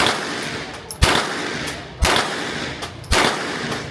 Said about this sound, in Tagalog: Firing! Firing!